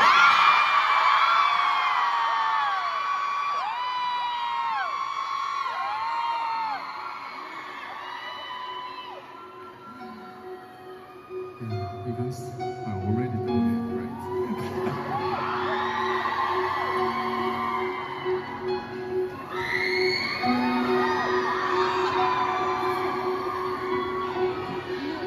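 Concert crowd at a 'Dawn to Dusk' tour show in the PNE Forum, Vancouver, whooping, yelling and cheering loudly and continuously, dipping briefly mid-clip before swelling again with high excited shouts.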